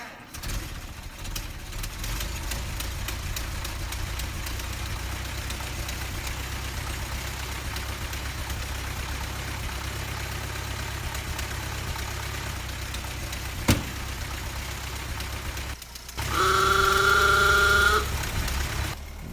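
A Ford Model T engine runs at a steady idle, a continuous low mechanical drone that holds throughout, with a brief louder tonal burst near the end.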